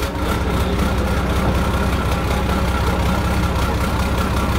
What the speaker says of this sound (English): So it pretty much sounds like all the other mufflers do.